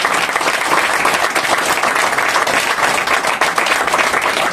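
A church congregation applauds loudly and steadily, a dense wash of many hands clapping together up close without pause.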